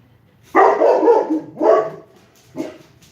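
A dog barks loudly and close by, two long harsh barks followed by a shorter one after a pause, with no talk over them.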